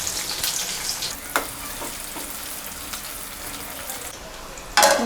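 Onions frying in a couple of spoons of oil with cumin, dried red chili, cinnamon, cardamom and bay leaf for a drumstick masala curry; a steady close sizzle with stirring clinks and a louder burst of crackle near the end.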